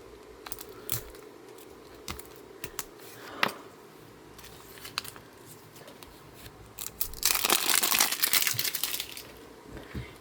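Mini Brands blind bag packaging is torn and crinkled open by hand, a loud burst of crackling plastic toward the end after quieter rustling and handling, with no talking.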